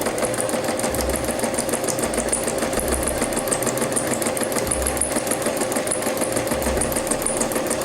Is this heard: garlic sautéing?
no